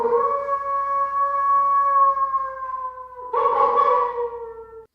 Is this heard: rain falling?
no